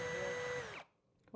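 A power drill whines steadily while driving a screw, then spins down and stops abruptly, leaving a short quiet gap before a brief clunk.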